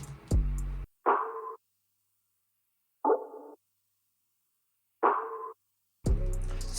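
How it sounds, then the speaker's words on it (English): Percussion loop from an R&B drum kit, short bright hits spaced with gaps of silence, clean and up front, bracketed by bursts of other sound at the start and end. "we got this perk loop from Kavi's R&B drum kit, and it sounds like this"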